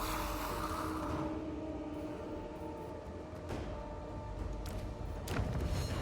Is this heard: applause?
no